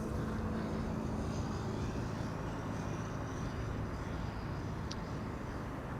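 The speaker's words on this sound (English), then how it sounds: "Emirates 777 over there." Emirates Boeing 777 taking off at Amsterdam Schiphol Airport, a steady broadband jet engine roar held at constant loudness across the whole stretch, distant and continuous with no voices.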